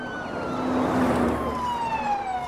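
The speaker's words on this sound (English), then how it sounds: "That's a lot of police and ambulance." Police and ambulance sirens wailing together in a TV drama scene, with several rising and falling tones overlapping at a moderate distance, loud and steady throughout with no talk.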